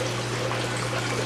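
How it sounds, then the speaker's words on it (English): Water siphons quickly out of an aquaponics external siphon as a steady, close rushing trickle with an even, constant flow and no voices. "And it is just siphoning out really quickly."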